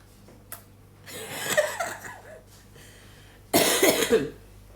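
Two harsh, raspy coughs, close up and separated by a pause, the second louder and longer, with quiet room noise between them.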